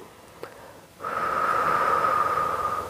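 A single breath during a pilates exercise: a quick faint sniff, then a long steady airy exhale that lasts about two seconds, close and clear with no talking.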